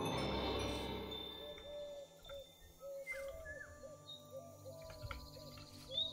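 A seagull call in the Minecraft video game repeats as a series of short, evenly spaced cries, faint and set against a low game ambience after a brief louder rush of noise at the start.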